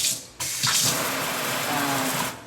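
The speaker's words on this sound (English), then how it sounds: "turning on the faucet" Water gushes from a newly installed Moen Georgene kitchen sink faucet. A short click is followed by a steady, loud, hissing stream that fades slightly at the end.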